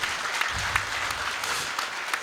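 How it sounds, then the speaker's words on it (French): Studio audience applause at a Burkinabé women's day television special, a dense steady patter of many hands clapping at moderate volume, with no talk over it. "Ah, ça s'applaudit, les gars, il faut applaudir"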